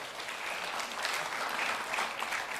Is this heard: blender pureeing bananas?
no